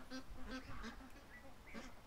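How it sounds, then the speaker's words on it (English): Ducks quack and honk softly in a yard, a few scattered calls at a moderate distance over a steady background hiss. "Ducks are surrounding the yard"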